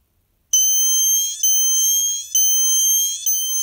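A Snap Circuits blinking circuit sounds a loud, shrill electronic horn after a brief silence, pulsing on and off about four times in a steady rhythm.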